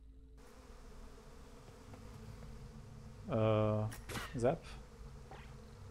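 Bees buzz through a Psychonauts 2 game scene as a faint, steady hum, overtaken midway by a loud burst of game effects and a spoken word.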